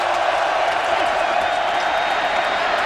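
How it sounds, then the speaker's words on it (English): Sellout stadium crowd at Camp Randall during a Wisconsin college football game, a steady loud roar of thousands of fans with no breaks for the whole stretch. "Wisconsin players asking for noise, and they get it from the sellout crowd at Camp Randall"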